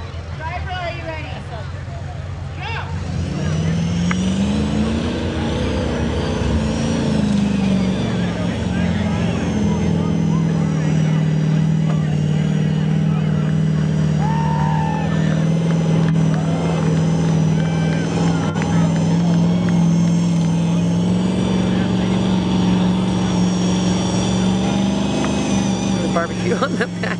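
A mud truck engine at the Ethel, Washington MudFest mud race idles and then revs up into a loud, sustained roar that holds steady for a long stretch, with an announcer talking over it.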